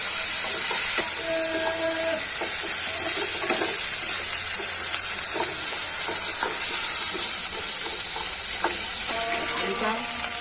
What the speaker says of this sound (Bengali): আলুটা একটু ভালো করে ভাজতে হবে।